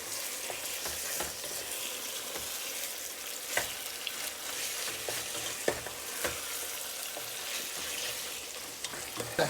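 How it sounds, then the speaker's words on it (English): Ground turkey browns in a pan with vegetables and bacon, a dense, steady sizzle broken by occasional scrapes and taps of a stirring utensil, close and continuous. "All right, here we go. Browning off our turkey."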